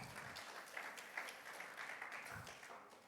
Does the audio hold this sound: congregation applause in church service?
yes